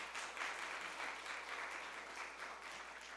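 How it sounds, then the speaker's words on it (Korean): Applause from a church seminar audience after a ninety-minute lecture by a deacon, dense and steady throughout, moderately distant and fairly quiet, with no voices over it. "1시간 반 동안 열강을 해주신 우리 한동환 집사님 다시 한번 큰 박수 부탁드리겠습니다."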